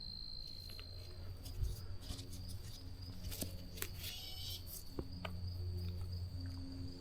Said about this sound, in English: Oh, I'm hearing a really loud cicada now.